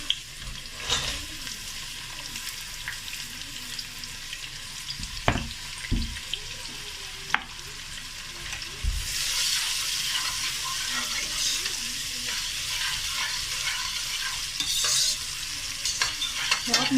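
Onions with whole cumin and coriander seeds fry in a pan, a low steady sizzle with occasional stirring clinks, growing into a brighter, fuller hiss partway through.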